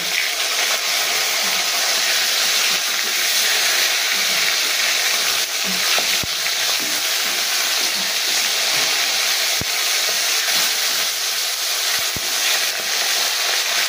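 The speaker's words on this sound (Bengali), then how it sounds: "এবার আমি মাছটা উল্টে নেব, উল্টে অন্য পিঠটা ভালোভাবে ভেজে নেব।" Bhola fish sizzles steadily in hot oil in a pan as it is flipped to fry the other side, a loud, continuous crackling hiss with a few sharp pops and no talking.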